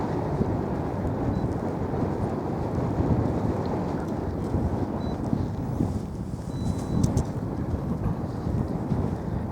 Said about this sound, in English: It's getting a bit windy actually.